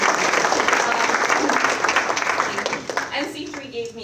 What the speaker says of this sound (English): And this is where it says I should pause for applause.